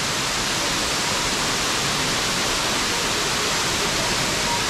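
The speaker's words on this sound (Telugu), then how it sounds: "చూసారా వాటర్ ఫ్లో, వాటర్ ఫాల్స్." A waterfall at Madikeri in Coorg gives a constant, dense roar of rushing water, broadband and unbroken, heard on its own without voices.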